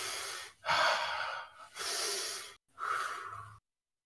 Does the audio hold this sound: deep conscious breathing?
yes